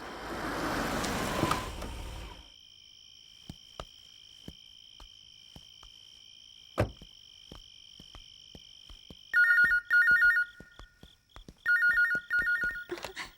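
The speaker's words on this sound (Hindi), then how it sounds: "दीदी तुम्हारा फोन है।" A telephone rings in two short bursts of electronic trilling near the end, following a burst of noise and a long quiet stretch with faint clicks.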